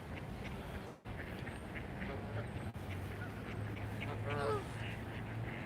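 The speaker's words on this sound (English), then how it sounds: "We have some Canadian geese." Canada geese honking at a distance, their calls rising into a louder cluster near the end over steady outdoor background noise.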